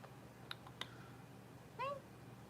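A single short meow from Smokey, a kitten, faint and close, comes after a couple of soft clicks against a quiet indoor background.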